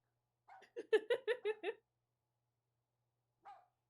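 In the video game Rule of Rose, a dog lets out a quick run of about six barks in close succession, then goes quiet before one faint, short yelp near the end.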